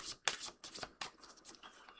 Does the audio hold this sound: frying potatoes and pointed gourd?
no